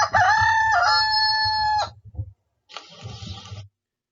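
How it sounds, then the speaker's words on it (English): A rooster gives one loud, close cock-a-doodle-doo with a wavering, drawn-out final note, followed after a short gap by a second, rougher crow. "It's the sound of the rooster crowing."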